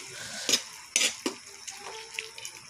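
Thick coconut milk goes into a simmering pan of sautéed vegetables with chicken for a Filipino ginataan dish, with a faint low sizzle broken by several sharp spoon clinks against the pan.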